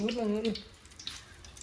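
Liquid is poured into a pan while jamun fruit (Java plum) halwa is made: a soft, hissing trickle that follows a short burst of voice at the start and continues faintly to the end.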